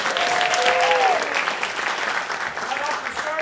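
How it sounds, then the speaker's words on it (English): Steady applause from a vaudeville theater audience fills the space, a dense continuous patter of many hands, with a speaking voice faintly threaded through it. "Can we give another round of applause for Emily McIntyre?"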